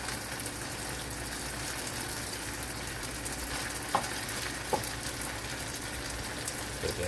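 Chicken for fried rice frying in a pan, a constant soft sizzle with a couple of faint stirring clicks midway, and no voices over it.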